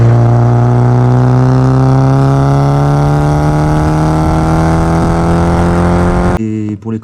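A VW Golf 2 1800 engine with a Weber 32/34 carburettor and a GTI-type exhaust silencer, idling loudly and steadily with a deep droning hum before it cuts off abruptly near the end.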